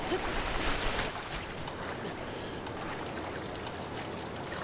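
Rushing, splashing water runs steadily as a character swims up a waterfall in Zelda Breath of the Wild, a continuous close stream with no talk.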